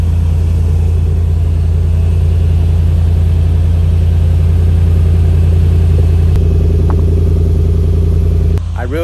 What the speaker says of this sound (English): I really like how the V8 rumble came to life after I did that little muffler delete